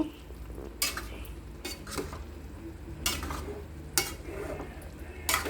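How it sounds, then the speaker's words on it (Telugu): A spoon stirs Rayalasema-style chutney in a steel kadai, giving soft repeated scraping strokes against the pan's metal bottom about once a second over a faint background hum. "ఇది స్టీల్ బాండీ కదండి, అడుగు పడుతుంది, అందుకని అయినా కూడా ఒకసారి మిక్స్ చేసుకుంటూ ఉండండి మధ్యలో"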